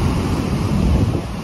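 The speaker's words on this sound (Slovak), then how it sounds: "Ale vlny sú tu riadne veľké." Big ocean surf rolls in at Maroubra beach in Australia, a loud continuous wash of breaking waves mixed with heavy wind buffeting the microphone, with no voices.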